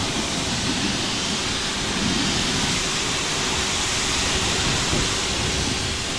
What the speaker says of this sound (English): so now I'm going to rinse it off.